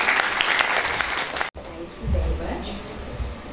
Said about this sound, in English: A huge round of applause for Ma'am Mrs. Lavasa.